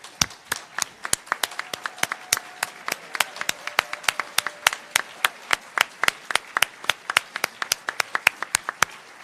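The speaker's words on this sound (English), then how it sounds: "give yourself a round of applause" Sparse applause after a workshop session on inequities. A handful of separate claps ring out in a quick, uneven rhythm, fairly close and moderately loud, and continue without talk for about nine seconds.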